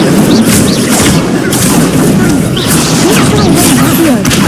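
A loud, dense burst of fiery booms and crashes from an Incendio fire spell cast in Hogwarts Legacy, filling the whole moment with rumbling blasts while a voice speaks over the battle.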